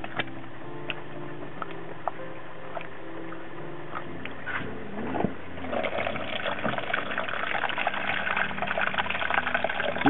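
Running water pours over sprouting mung beans during a rinse, starting with faint ticks and drips, then swelling into a steady, close gush and splash that continues to the end.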